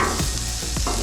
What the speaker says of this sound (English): let's mix these up so we spread the garlic